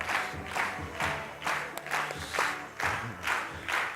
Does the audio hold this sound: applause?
yes